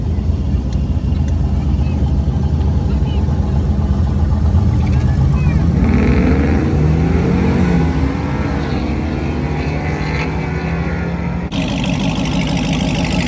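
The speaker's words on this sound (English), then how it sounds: "Let's record these cars." Drag racing cars at a Shadyside test and tune session: a continuous engine drone with a rising, sweeping roar passing by midway, followed by a sudden shift in the noise near the end.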